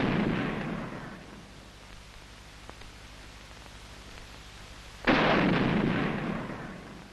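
Two heavy tank cannon rounds fired during a turret training exercise, each a loud broadband blast with a long decaying rumble, the first at the start and the second about five seconds later.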